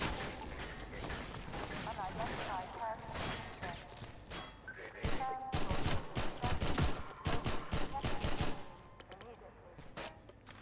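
Weapon fire in Half-Life 2 running the MMod mod: bursts of rapid, punchy gunshots, heavier and denser in the second half, with a voice talking over much of the shooting.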